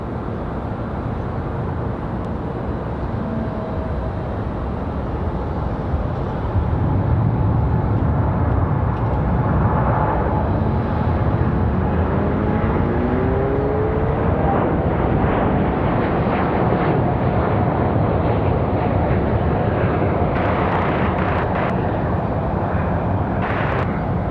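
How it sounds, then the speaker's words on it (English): An Air France Boeing 787 Dreamliner jet departing from Raleigh-Durham International Airport, a loud, steady broadband engine roar that swells slightly partway through and holds without voices. "Good looking Air France Dreamliner departure there"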